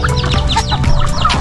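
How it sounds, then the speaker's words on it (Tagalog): Fighting roosters and hens in a poultry pen clucking and chirping close up, several overlapping calls in quick, busy succession over a low background rumble. "Mayroon po akong 8 manok na pangsabong doon"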